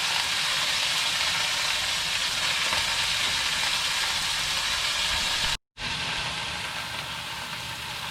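Pot roast meat searing in a hot pot, a steady, loud, broadband sizzle that holds evenly, cut by a brief silent gap near the end before the hiss resumes.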